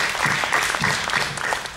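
Live audience applause at a podcast recording, a loud burst of dense clapping from a crowd close by, steady for a moment and then starting to thin out.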